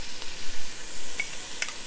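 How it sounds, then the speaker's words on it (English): Spices and garlic stirred into a pot of Georgian chicken stew after the wine has cooked off, giving a steady close hiss of sizzling with a couple of faint spoon scrapes. "Just stir it around."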